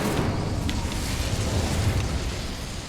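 Incendio fire spell cast in Hogwarts Legacy, a dense, roaring whoosh of flame that holds steady and loud for a few seconds before easing slightly.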